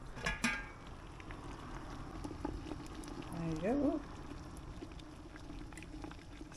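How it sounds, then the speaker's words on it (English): Spiced apple and ginger chutney bubbles in a pot during autumn preserving, a soft continuous simmering crackle with faint popping heard under a brief spoken remark. "so I'm making them into spiced apple and ginger chutney, which is now bubbling away"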